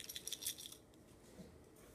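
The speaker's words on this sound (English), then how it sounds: "Now you can tell something's rattling around in the transmitter." Loose part rattling inside a Boscam TS832 video transmitter, a quick burst of light metallic clicks and ticks in the first half, then a faint scattered tick or two over quiet hiss.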